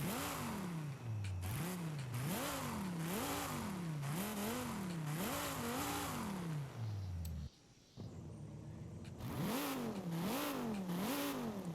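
A Forza Horizon 5 car with an aftermarket exhaust idles and revs repeatedly, loud and near, the pitch climbing and falling in a rhythmic series of blips with one brief pause before the revving resumes.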